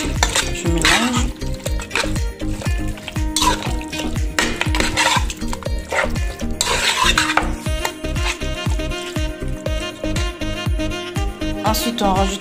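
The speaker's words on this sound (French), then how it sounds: "nous allons rajouter aussi du gingembre, oignon et l'ail et l'huile végétale que j'ai mixée aussi. Je mélange." A spoon clatters and scrapes rhythmically against a pot as ginger, onion, garlic and vegetable oil are stirred, with repeated loud knocks over a soft sizzle.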